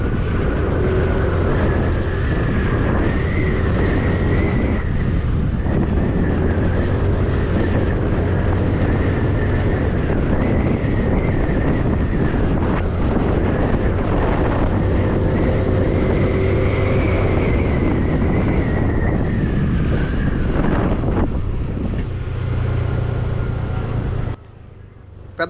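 A 2025 TVS Jupiter 125cc scooter on the move, its steady engine drone blended with constant wind rush against the microphone, loud and continuous for most of the ride before cutting off near the end.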